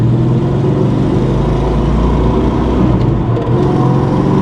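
A Ford Foxbody Mustang on freshly installed coil springs drives along, its engine giving a steady low droning hum with tyre and road noise at a constant loud level, with no voices.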